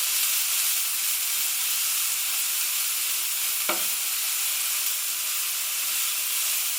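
Onions, garlic and courgette sautéing in a pan over medium heat, giving a steady close hiss of frying with a single brief clack of a utensil midway.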